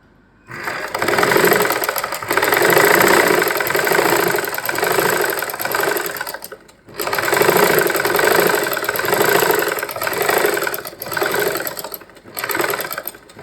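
A sewing machine stitches fabric in long, steady runs of fast mechanical whirring, stopping briefly twice before starting up again, close and clear with no talk over it.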